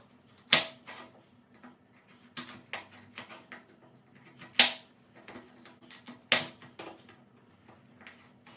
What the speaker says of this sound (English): Meantime, we'll take care of the carrot. We'll cut it in 4.